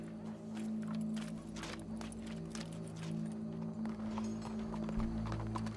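Horse hooves clip-clop in a steady walking rhythm in the Red Dead Redemption 2 video game, moderately close, with faint background ambience and occasional other noises but no clear talking.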